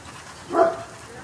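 A little puppy gives a single short whimper or yip lasting a fraction of a second, rising briefly out of a low background hiss.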